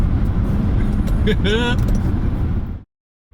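Jaguar I-Pace electric car accelerating hard, a loud steady roar of road and wind noise inside the cabin with a brief rising whine, while a person exclaims over it before an abrupt cut to silence.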